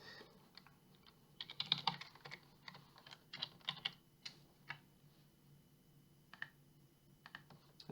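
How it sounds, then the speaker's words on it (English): Keys clatter on a computer keyboard as a password is typed, a quiet, irregular burst of clicks with brief pauses. "I'm going to type in a password."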